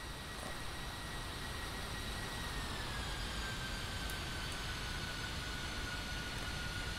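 An A-10C II jet in the DCS World flight game flies in to land, a steady broadband engine roar with a faint high whine, constant and unbroken throughout.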